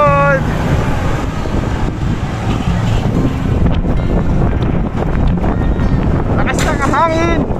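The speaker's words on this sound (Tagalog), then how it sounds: "Lakas ng hangin." Strong wind buffets the microphone in a steady, loud rumble throughout on a bike ride around Tagaytay, with brief voices and passing traffic-like noise underneath.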